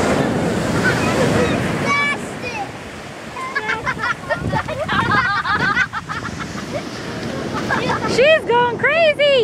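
Ocean surf washing up and crashing on a beach, a continuous broadband roar that swells and recedes, with people talking and high excited squeals rising over the water toward the end.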